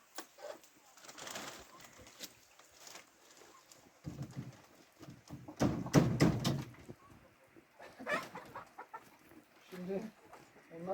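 Young hens (pullets) in a coop, soft clucks and murmurs scattered through the clip with a louder cluster in the middle, near and fairly quiet, mixed with faint human sounds.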